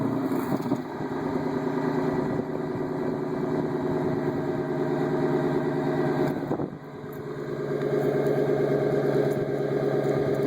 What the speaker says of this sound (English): Corsa Extreme exhaust startup.